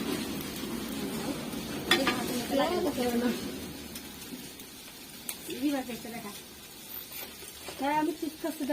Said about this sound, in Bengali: এই যে আমাদের দুই বাবুর্চি রান্না করছে